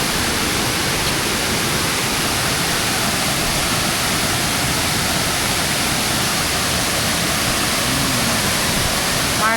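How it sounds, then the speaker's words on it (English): Tad Keo Muong Kout waterfall in Laos roars close by, a loud, steady broadband rush of falling water that fills the whole clip without a break. "And then the waterfall right behind you."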